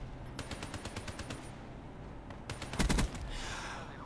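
Video game shooter gunfire with the P-06 pistol: rapid bursts of sharp shots in quick rhythmic volleys, a pause, then another tight cluster of loud shots followed by a lingering noisy tail.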